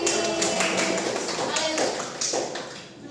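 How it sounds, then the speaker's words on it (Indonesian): Students in a class applaud a group, a quick burst of many overlapping hand claps and taps that fades toward the end, with talking mixed in. "Tepuk tangan untuk kelompoknya Febri."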